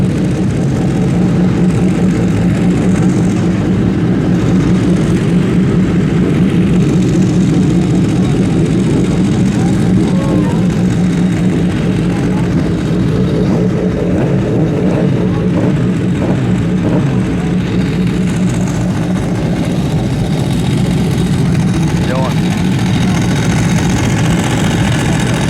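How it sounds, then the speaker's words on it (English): A Ducati 749R motorcycle engine runs steadily at a race paddock during a vintage classic event at Loudon, a loud continuous idle and rumble throughout with no pauses. "Clutching that Ducati sounds awesome. 749R."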